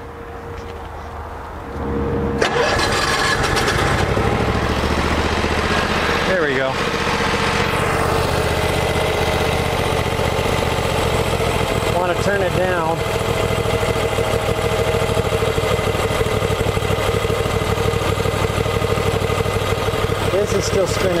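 A Howard Price Maverick 620 mower engine starts and settles into a loud, steady idle that runs without a break, with occasional brief mechanical knocks and a voice talking over it.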